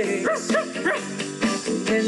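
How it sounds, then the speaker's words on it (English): A dog at a party barks in a quick run of short, bright yips and woofs, close and moderately loud. "There was Wag the dog, barking away,"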